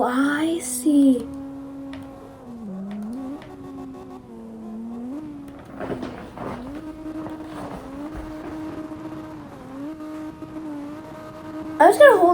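Car engine drifting in the CarX Drift Racing video game, a sustained revving tone that holds and bends in pitch with brief tire screeches, loud toward the end, under a talking voice.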